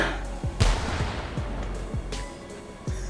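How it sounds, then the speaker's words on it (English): A cannon in the virtual-reality shooter game H3VR fires with a sharp, loud boom, followed by several further low thumps and rumbling reverberation across a few seconds. "Never thought I'd see the day where a cannon is added to H3VR"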